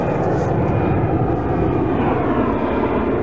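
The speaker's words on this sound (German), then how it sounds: "gefühlt, wegen dem lauten Flugzeug." A loud airplane drones steadily overhead above an autumn farm field, a continuous rumbling engine roar that fills the scene for its whole length.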